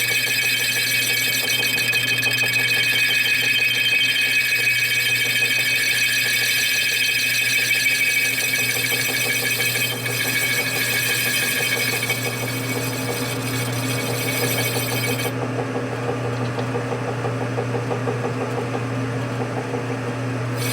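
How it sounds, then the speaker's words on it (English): A drill bit cuts cleanly into a metal part on a 1973 Harley-Davidson Shovelhead 74ci custom bobber, a loud steady high squeal with a constant motor hum, unbroken for about twenty seconds. "Amazing when a bit actually does cut instead of rubbing it off."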